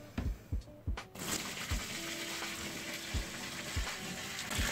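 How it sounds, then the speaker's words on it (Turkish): Water poured slowly from a large container into a big 65-litre terrarium of dry peat, a steady trickling pour with soft thuds and gurgles close by. "Bunu çözmek için yaklaşık şuradaki 20 litre suyu dökeceğim."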